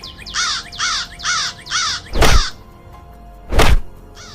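Crows give four loud, rhythmic caws in quick succession in a children's animated story about a proud lion, followed by two heavy thuds, close and prominent.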